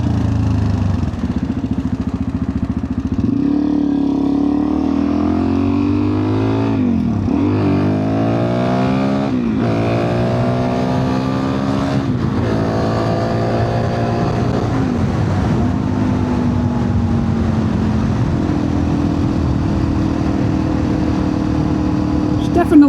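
A Suzuki DR-Z dual-sport motorcycle engine drones and revs while riding, its pitch rising through the gears and dropping at each shift in a repeating pattern, with someone talking over it throughout.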